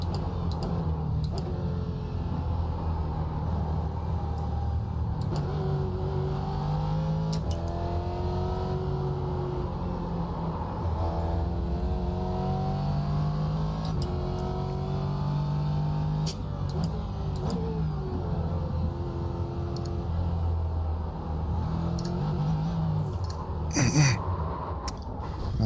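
Car engine in a racing video game, a steady droning motor with shifting pitch that rises and falls through corners across the whole stretch, fairly loud and continuous with a brief sharper burst near the end.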